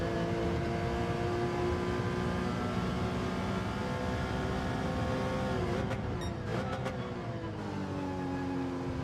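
Porsche race car in a racing video game, a loud steady engine drone with sustained harmonic whine, briefly dipping and shifting pitch near the end as the revs change, alone without talk.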